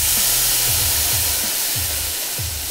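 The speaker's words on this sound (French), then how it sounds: "on déglace avec le vinaigre" Vinegar hitting a hot pork pan, a loud steady hissing sizzle with a rhythmic low thumping repeating underneath.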